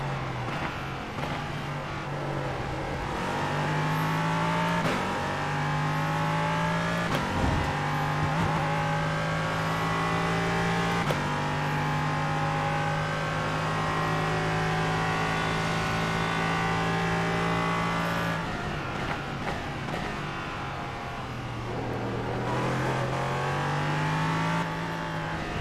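Race car engines in iRacing's Vmax Trophy at Indianapolis GP circuit, a steady loud drone of several engines revving and shifting through gears, pitch rising and falling continuously with no talk.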